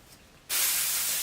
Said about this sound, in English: I'm going to prep this by spraying it, and this will just help it have a little bit of grit to it